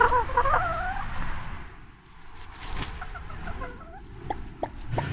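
Chicken sounds with soft clucks and short calls over a steady background hum, fairly close, no talking.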